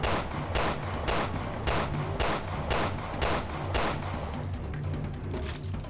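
Rapid bursts of gunfire against zombie hordes in the Resident Evil Revelations 2 video game, a steady run of sharp loud shots repeating about every half second with a rumbling backdrop and no talk.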